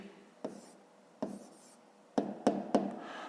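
Pen or stylus writing math answers on a screen, heard as a handful of soft, sharp taps and short strokes spaced irregularly over quiet room tone.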